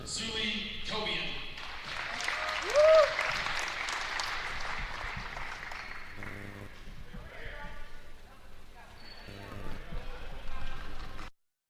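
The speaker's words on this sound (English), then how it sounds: "Let's give another round of applause." A crowd at a high school girls' basketball conference championship applauds honorable mention players, steady clapping that swells and fades and then rises again, with a voice speaking over the applause before it cuts off.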